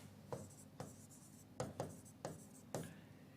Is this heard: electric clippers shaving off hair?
no